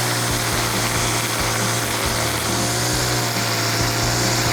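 Grass trimmer with nylon cutter line running steadily at high revs while cutting close against marble, a loud continuous motor whine and buzz throughout.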